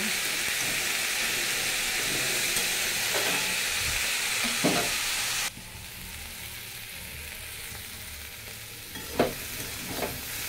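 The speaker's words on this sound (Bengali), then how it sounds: "ভেজে নেবো আমি, গ্যাসটা সিম করে খুব ভালো করে ভেজে নেব।" Soybean curry ingredients fry slowly over low gas in a pan, a steady close sizzle that drops in level partway through, with occasional stirring scrapes and knocks and no talking.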